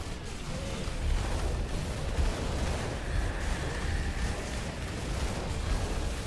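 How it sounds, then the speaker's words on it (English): Dense, continuous rumble of explosions in the action RPG Grim Dawn, a steady wash of blasts and crackling bursts at constant loudness with no clear gaps, filling the whole stretch. "I just see explosions"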